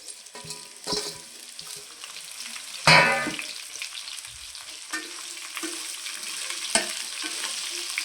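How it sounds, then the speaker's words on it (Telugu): Okra pieces go into a hot tempering of oil and dried red chillies, with a loud burst of sizzling and a scrape at the drop, then steady frying crackle broken by occasional stirring knocks against the pan. "తాలింపు వేగిపోయిందండి ఇప్పుడు ఇందులో ఈ బెండకాయ ముక్కలు వేసుకుందాము"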